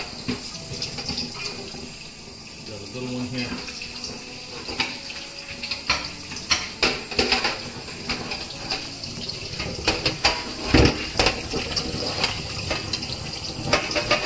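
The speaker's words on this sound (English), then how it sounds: "I'm gonna wash it with cold water. Wash it well." Salt fish being washed under a cold running tap, a steady splashing gush of water with clattering handling noises, close by, with a brief spoken remark.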